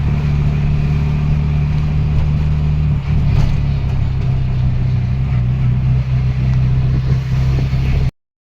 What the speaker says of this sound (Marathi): साताऱ्यावरनं येणाऱ्या गाड्या.